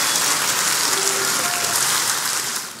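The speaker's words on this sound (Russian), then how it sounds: "Посла России здесь встречают долгими аплодисментами" Long, dense applause greets the Russian ambassador at an exhibition opening in Bulgaria, a steady wash of many hands clapping that holds evenly throughout and fades slightly at the end, with no voices over it.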